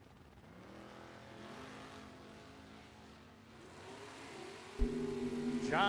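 Two drag racing Camaros, a 2022 and a 2000 model, roar down the strip at a bracket nationals event, a rising engine drone heard at a distance with a sharper surge near the end.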